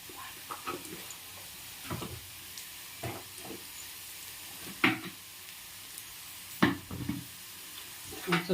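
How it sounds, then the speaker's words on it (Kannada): Onions frying in a little oil for egg rice, with soft sizzling and scattered scrapes and knocks of a spoon stirring in the pan, close and fairly quiet, no talking. "2 ಸ್ಪೂನ್ ಎಣ್ಣೆ ಹಾಕಿನಿ, ಒಂದು ಸ್ವಲ್ಪ ಈರುಳ್ಳಿ ಹಾಕಿನಿ"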